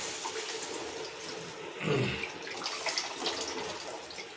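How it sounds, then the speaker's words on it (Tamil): Tamarind water poured into a pan on a low flame while making puli kaaichal, a brief splashing pour near the middle of the clip over a steady kitchen background. "இப்போ நம்ம புளி கரைச்சலாம் சேர்த்துக்கலாம்"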